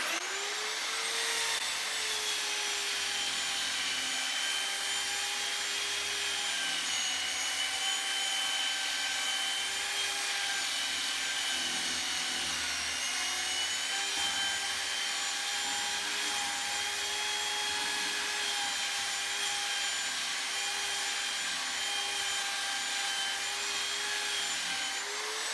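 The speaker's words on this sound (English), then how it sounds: "I'll just show you once more with the sander." A power sander works wood during a narrowboat fit-out, a steady, close, continuous whirring drone with a rasping edge that runs unbroken throughout, with no voices over it.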